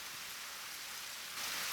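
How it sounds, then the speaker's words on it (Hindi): Steady rain falls in a cartoon scene before a storm, a dense, even hiss of drops on surfaces that swells slightly louder toward the end, with no voices. "लगता है बारिश के बाद तेज तूफान आने वाला है।"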